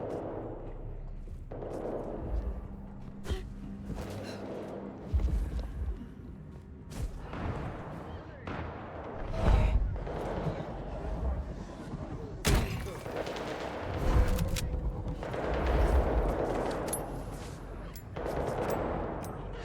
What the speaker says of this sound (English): And all these mortals up here don't hear all this gunfire going on?